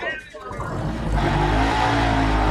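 The JCB land speed car firing up on the Bonneville salt flats: a short lull gives way to a deep, loud engine roar that swells and holds. A voice is heard over the opening moments.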